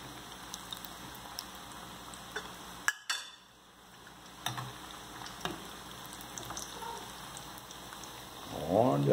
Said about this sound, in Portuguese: Estamos fritando aqui.